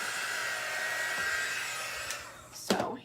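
Small teal craft heat dryer blowing over Mod Podge on a Christmas napkin and truck cutout, a steady close whirring hiss that runs throughout, with a couple of brief louder bursts near the end.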